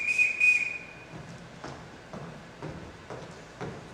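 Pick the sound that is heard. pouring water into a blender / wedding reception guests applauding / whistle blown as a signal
whistle blown as a signal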